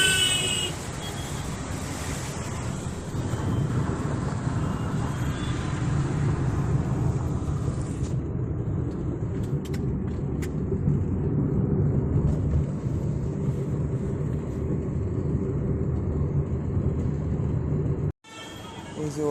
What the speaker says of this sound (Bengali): এই যে ওলা এই গাড়িটায় আসলাম